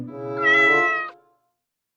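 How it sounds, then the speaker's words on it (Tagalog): A domestic cat at home gives one long, loud, close meow that rises and then fades, followed by silence. "Pusa natin yan!"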